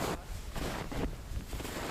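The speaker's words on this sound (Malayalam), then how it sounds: "നല്ല കാറ്റുണ്ട്" Strong wind sweeps across snowy mountain slopes at Gulmarg in Kashmir, a steady gusting roar buffeting the microphone with low rumbling surges and no voices.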